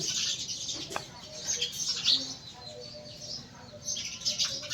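Sparrows around nest boxes at an ashram school, scattered short chirps and tweets at moderate distance with a brief wing flutter, over a soft outdoor background.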